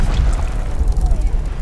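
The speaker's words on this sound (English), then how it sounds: "Another explosion rocked the ship." An explosion rocks a spaceship in an audio drama scene: a heavy, rumbling boom rolls on for the full length, deep and loud with no distinct peaks.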